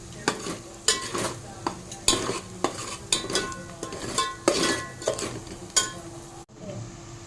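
A spoon scrapes and stirs a thick dal khichdi mixture in a pot with repeated rhythmic strokes and clinks against the metal, under a soft sizzle, with no voices.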